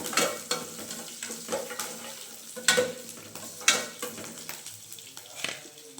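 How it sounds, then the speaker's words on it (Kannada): Green chillies fry in hot oil in a pan, a steady close sizzle broken by repeated sharp scrapes and clinks of stirring against the metal. "ಹಸಿಮೆಣಸಿನಕಾಯಿ ಸ್ವಲ್ಪ ಖಾರ ಹೋಗೋ ತನಕ ಸ್ವಲ್ಪ ಫ್ರೈ ಮಾಡಬೇಕು ಚೆನ್ನಾಗಿ"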